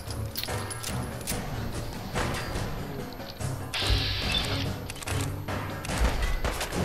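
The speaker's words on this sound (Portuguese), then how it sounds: "Eu tô dando tiro de pistolinha no super mutante." Pistol gunfire at a super mutant in a video game, with loud, rapid bursts of shots and crashing impacts repeating through the whole span, with almost no talk.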